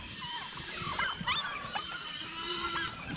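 A flock of ducks on a farm call with scattered honking quacks, moderately close over a steady background, several birds overlapping.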